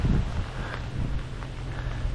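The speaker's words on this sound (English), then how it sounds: "I know it's raining" Steady rain falls near a waterfall in Whitewater Canyon, a dense continuous hiss with a deep rushing rumble underneath, loud and close throughout, with no voices.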